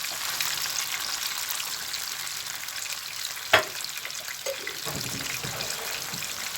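Homemade tomato sauce frying in a pan gives a steady, close sizzling hiss throughout, broken by one sharp clack midway and a few softer knocks afterward, with no voices.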